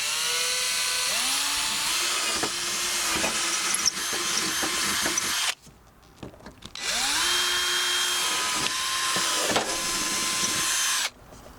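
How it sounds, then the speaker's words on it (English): A power drill whines steadily up to speed and bores into a car's light bar mounting holes in two long bursts, with a short pause between them and a brief stop at the end, close by. "This bit fits perfectly in the light bar mounting hole, so let's get drilling."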